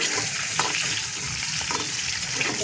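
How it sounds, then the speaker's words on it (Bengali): Eggs frying in a pan for an egg curry with lime, with a continuous close sizzle and crackle and a few faint stirring clicks. "ডিমগুলো ভাজা হচ্ছে, আপনারা দেখতে পাচ্ছেন ডিমগুলো ভাজা হচ্ছে।"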